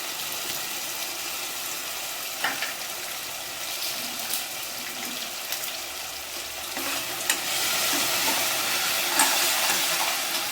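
Onion and garlic sauté in a hot pan for tomato rice, giving off a steady, close sizzle. Occasional scrapes and stirs break through the frying, which swells louder toward the end.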